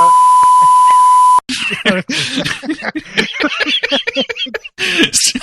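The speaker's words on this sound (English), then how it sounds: "Don't worry, I'll beep that out." A loud steady censor beep tone holds for over a second, then cuts off abruptly into people talking and chuckling.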